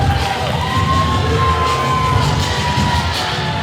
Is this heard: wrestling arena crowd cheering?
yes